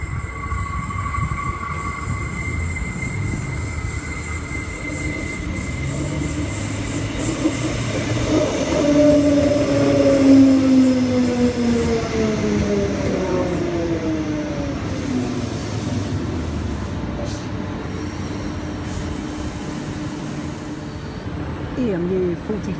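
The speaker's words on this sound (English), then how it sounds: "EMU 45 departing." EMU electric train pulling out of Morningside Station in Brisbane, with a rising motor whine, wheel squeal and rolling rail noise that swell and fade over about twenty seconds, heard from the platform.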